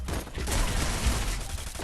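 A dense burst of rapid video game gunfire crackles continuously for a couple of seconds, loud and unbroken, with no voices over it.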